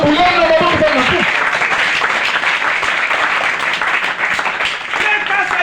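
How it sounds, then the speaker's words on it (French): A church congregation at a worship service applauds in a sustained wash of clapping, loud and full, with a voice speaking over it at the start. "Alors acclamons pour le Seigneur."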